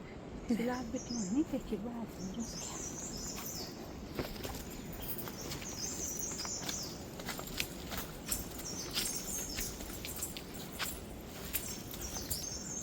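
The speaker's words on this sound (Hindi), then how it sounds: "बस चिड़िया ची ची ची ची कर रही है।" Small birds chirp faintly in a quiet mountain valley near a temple, with sparse high tweets scattered over a soft ambient background and occasional rustling steps nearby.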